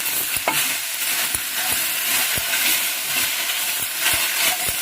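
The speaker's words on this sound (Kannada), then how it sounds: "ಕೈ ಆಡ್ತಾನೆ ಹುರ್ಕೋಬೇಕು." Okra pieces coated in masala fry in a pan, with a steady close sizzle and repeated scraping clicks from a spoon stirring them, no voices.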